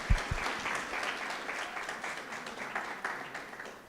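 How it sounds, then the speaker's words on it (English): Audience applause for the student council president at a university inauguration ceremony, a quieter, rhythmic patter of many hands clapping with a few sharp nearby claps at the start. "One last round of applause,"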